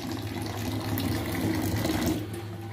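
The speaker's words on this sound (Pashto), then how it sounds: "دا د دې کچره اوبه راوځي" Waste reject water from an RO water filter plant drains steadily, a continuous close rushing and trickling flow with a low pump-like hum underneath, running without pause and with no talk.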